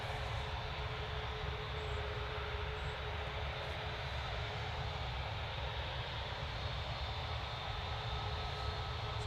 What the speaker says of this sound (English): Ryanair hurtles off down 2-3 left.